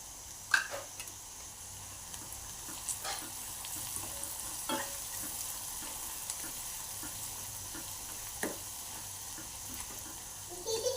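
Onion frying in a pan until golden, a continuous gentle sizzle broken by a few clicks and scrapes of a spoon stirring.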